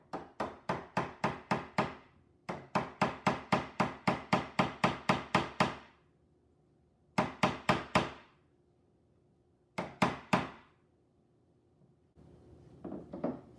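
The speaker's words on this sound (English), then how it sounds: "Following the same process of holding a nail in place and hammering it in" Rapid, regular hammer blows drive nails into wood up close, in several runs of sharp knocks separated by short pauses.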